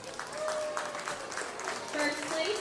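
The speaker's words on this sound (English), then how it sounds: "Go ahead and give this young man a round of applause." Clapping from a crowd ringside at a county fair livestock show after a lamb class, steady and moderately loud, lasting the whole moment with some voices mixed in.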